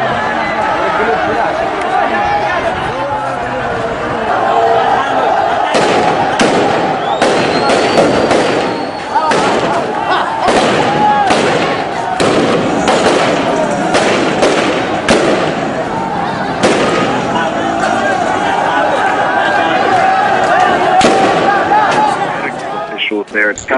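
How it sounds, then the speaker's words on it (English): Sharp gunfire cracks and bangs go off repeatedly and irregularly over a noisy crowd in Taiz, Yemen, with people shouting and talking throughout. "Take a listen to some of the shots"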